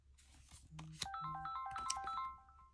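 A mobile phone rings in a room, a short melodic ringtone of rising and falling tones lasting a couple of seconds, fairly quiet with no talk over it.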